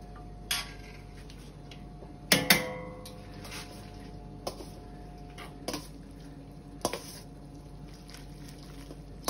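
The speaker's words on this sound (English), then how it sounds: "Just give it a really good mix around." Spaghetti being tossed with bolognese sauce in a pan, giving scattered clinks and soft scraping knocks of utensil against the pan, with a few sharper clacks, close up over a quiet kitchen background.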